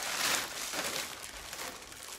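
Thick shrink plastic wrap being handled for a birthday basket, close crinkling and rustling of the stiff film throughout, fairly soft and continuous.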